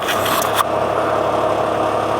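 A crane truck's engine idles in a steady, continuous low rumble with a faint hum, a brief clatter near the start, then an even drone.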